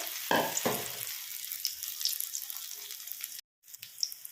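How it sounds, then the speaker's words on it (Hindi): Spinach koftas (palak dumplings) frying in hot oil, a steady broadband sizzle with a couple of louder bursts as they go in, then a brief dropout before the crackle resumes; no one talks. "इसी तरह सभी कोफ्ते को फ्राई कर लेंगे।"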